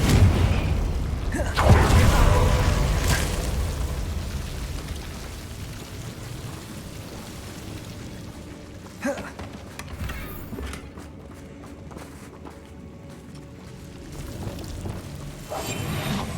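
A fiery Confringo spell blast bursts loudly in Hogwarts Legacy, a booming whoosh early on followed by rumbling crackle and a second sharp impact midway, set against steady ambient game noise.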